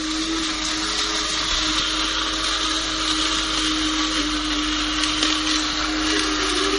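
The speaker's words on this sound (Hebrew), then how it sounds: "בינתיים אנחנו טוחנים את הקפה" An electric grinder grinds coffee beans for Ethiopian coffee, a loud, steady whirring motor drone held close and unbroken from start to finish, with no voices over it.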